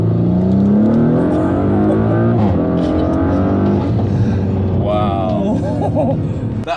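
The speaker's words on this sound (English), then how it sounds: "Expect an SUV to have just crazy turbo noises coming from it" An Audi SQ5 SUV on lowered air suspension accelerates hard, its engine roaring loudly and continuously with turbo whoosh and whir, a person talking over it throughout.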